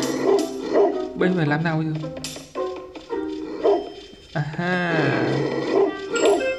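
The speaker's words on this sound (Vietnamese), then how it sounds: "Trong này có nhốt chó, nuôi chó." Dog in a video game barking and yipping in several short bursts, close and loud, with someone talking over and between the barks.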